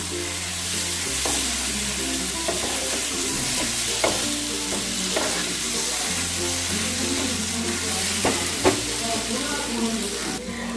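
Potatoes sautéing with spices in a pan for a boal fish curry, with a loud steady sizzle and intermittent stirring scrapes close up.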